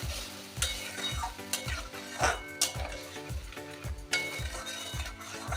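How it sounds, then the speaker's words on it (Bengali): Spice paste sautés in a pan for a Bengali cabbage and rice dish, a sizzling hiss cut by regular scraping and clinking strokes of a spatula against the metal, close and rhythmic. "মশলাটা আমি ভালো করে এবার কষাবো"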